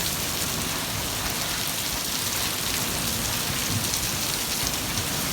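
Heavy rain from a Mojave Desert summer storm, a dense, even roar of drops pattering on surfaces, loud and continuous with no voices.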